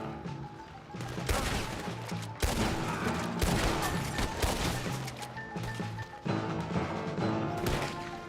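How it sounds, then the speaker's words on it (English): Gunfire in a Red Dead Redemption 2 shootout around a wagon, a dense run of overlapping gunshots and volleys crackling loudly for about eight seconds, mixed with thuds and impacts, no one speaking. "Who else is shooting at us?"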